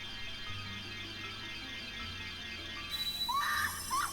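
A high, wavering shriek from the Great Fairy in The Legend of Zelda: Majora's Mask, fairly faint and rising over a low, steady game music backdrop in its final second.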